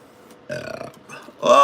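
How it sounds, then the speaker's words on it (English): A single loud, rough burp after drinking Pepsi, bursting out near and close at the end after a shorter throaty grunt, with a quiet room behind. "Oh, Pepsi burp."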